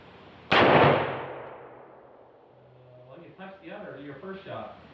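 A single loud, sharp rifle shot from a Bergara B-14 Wilderness Terrain in 6.5 Creedmoor cracks nearby and rings off into a long fading tail, followed by people talking.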